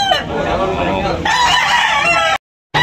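A rooster crows loudly and close by at a rooster sale in Batangas, a long harmonic call followed by a second crow, with clucking from other fowl around it.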